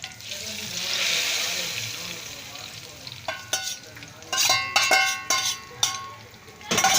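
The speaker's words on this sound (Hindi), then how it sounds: "अपनी कड़ी पे तड़का लगाएंगे।" Hot tadka tempering poured onto kadhi sizzles in a soft, hissing rush, then a spoon clinks repeatedly against the metal pot as it is stirred.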